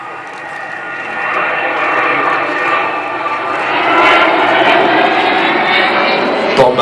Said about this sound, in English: Vulcan, of course, originally designed as one of the 3 V-bombers to form part of Britain's nuclear deterrent.